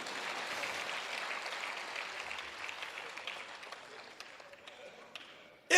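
An audience at a Hindi comic poetry gathering (hasya kavi sammelan) gives a dense wash of clapping that fades gradually. A brief loud sound cuts in at the very end.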